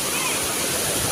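The Gandahati waterfall pours down in a dense, steady roar of falling water, close and loud throughout, with a voice faintly present under the rush.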